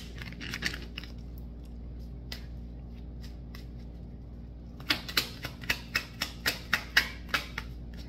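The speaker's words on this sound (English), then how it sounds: "let me get some of these cards here" Tarot cards are handled during a reading. A few soft scattered taps give way to a quick run of sharp, close card snaps and flicks in an even rhythm, with no speech.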